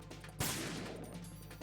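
A single gunshot fired in the stealth video game Metal Gear Solid 2: Sons of Liberty, a sharp loud crack followed by a ringing decay over a steady low game hum, with no talking.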